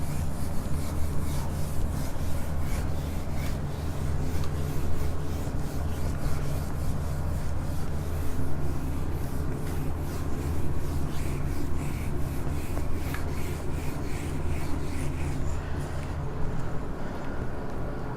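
Steady, continuous rubbing as writing is wiped off a classroom board, a dry scratchy swishing that carries on evenly and close for the whole stretch, with no talk over it.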